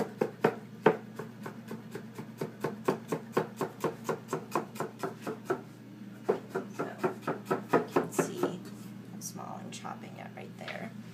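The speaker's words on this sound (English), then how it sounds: "Chopping it right there." A knife taps rapidly against a cutting board while ginger is chopped for shrimp lettuce wraps, producing a long, fast, even run of crisp close chops with a brief pause midway, as someone talks quietly over it.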